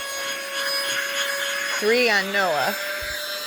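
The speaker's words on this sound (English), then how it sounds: "Freaking handheld vacuum cleaner." A handheld vacuum cleaner drones steadily at close range while being run over a dog's coat to pull off deer ticks, its motor whine constant throughout as someone speaks briefly over it.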